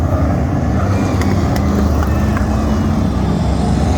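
V8 outlaw race cars lap an oval track, their engines making a loud continuous low roar with no breaks throughout.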